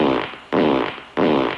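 Radio fart sound effect played three times in a row, each a loud, abrupt buzzing burst lasting about half a second before cutting to the next, with no talking over it.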